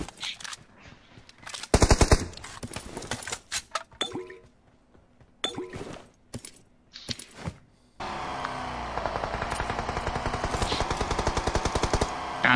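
Video game gunfire: scattered single and short bursts of shots with clinks at first, then a loud continuous stream of rapid machine gun fire through the final seconds.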